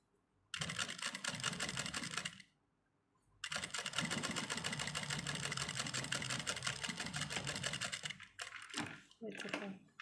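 A sewing machine stitches over an already sewn line to repair a trouser crotch seam. It runs in a short burst, then a long steady run, then several quick bursts, all close and loud.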